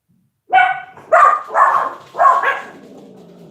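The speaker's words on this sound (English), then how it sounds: "And there's my dogs." Several dogs bark outdoors near a roadside, four loud, distinct barks in quick succession, close to the microphone, each followed by a short tail of noise.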